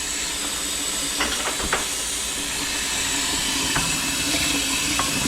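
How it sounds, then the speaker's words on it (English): Cold tap water runs into a pot at a kitchen sink as a steady, loud hiss, with a few brief clinks and taps over the flow. "just put cold water in there."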